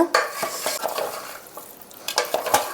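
Mutton pieces being stirred with masala and coriander in a pot, with a spoon scraping and clinking against the metal in irregular strokes over a soft sizzle, close and moderately loud.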